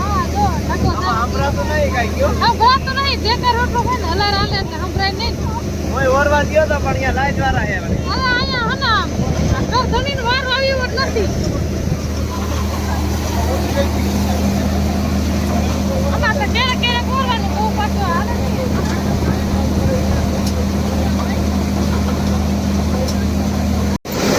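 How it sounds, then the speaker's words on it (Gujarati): A farm machine's engine runs steadily after starting, a continuous loud drone with a low hum throughout, during a cumin harvest. People talk intermittently over it. "ઓરવાન ચાલુ કરી દીધું"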